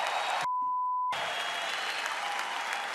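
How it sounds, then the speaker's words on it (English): Steady, loud applause from a crowd greeting a heavyweight boxing world champion, cut off briefly by a short steady beep in a silent gap, then continuing at full level. "So please, give him a round of applause as our heavyweight champion of the world."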